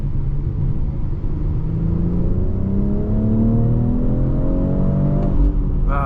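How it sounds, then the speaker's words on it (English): A brand new 2023 BMW X4 M40i with its B58 six-cylinder accelerating on the road, a steady close rumble with rising engine harmonics climbing smoothly through the gears, no talking. "today we are going for a drive in a brand new 2023 BMW X4 M40i"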